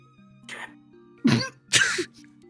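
Two sharp, loud coughs close to the mic, about half a second apart, following a softer throat-clearing sound over a faint steady hum.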